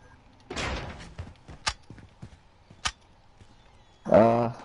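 A door opens in an online shooter game, with a creak and sharp knocks amid faint clatter, then a loud burst near the end, while players talk quietly over it.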